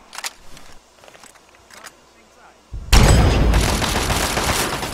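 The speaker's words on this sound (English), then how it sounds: "Let's try out this Gauss rifle." A Gauss rifle in Fallout 3 fires with a sudden loud blast that cuts in partway through, followed by a sustained crackling roar. Quieter game sounds and a voice come before it.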